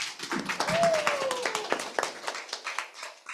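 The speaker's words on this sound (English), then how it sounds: "Let's give a round of applause" Applause from the audience at the Bookizcon 2025 children's storytelling session, a dense patter of many hands clapping for just over three seconds, with voices mixed in.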